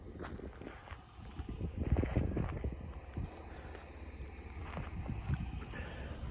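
Wind rumbles and buffets steadily across the microphone outdoors at the snowy Hahn town site, with scattered crunching steps and knocks mixed into the low, blustery noise.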